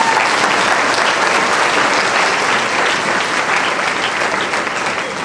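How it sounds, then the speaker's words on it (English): A university audience at a fresh-student admission ceremony applauds for the Vice Chancellor and guests, with dense, steady clapping filling the hall at full loudness for the whole stretch and easing only slightly near the end. "please can we give the Vice Chancellor and the distinguished personality at the table a round of applause"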